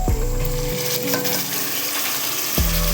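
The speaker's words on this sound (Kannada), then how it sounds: "ಫ್ರೈ ಆದಮೇಲೆ ಇದಕ್ಕೆ ಇವಾಗ ನೆನೆಸ್ಕೊಂಡಿರೋ ಅಕ್ಕಿನ ಇದ್ದೀನಿ" Soaked rice tipped into a hot pan of frying mixture, giving a steady sizzle and stirring rustle, with a fresh burst of frying at the start and again near the end.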